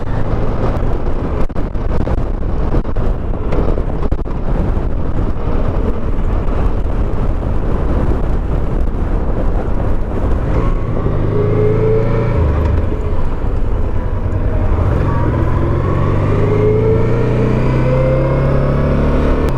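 A Honda NT700V motorcycle ridden on a winter road, its engine a steady, close drone under wind rush, with rising and falling pitch toward the end as the rider changes speed.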